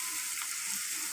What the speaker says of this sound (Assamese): যেনেকৈ আপোনালোকে পিঁয়াজ ভাজে তেনেকৈ আমি ভাজি লৈছোঁ প্ৰথমতে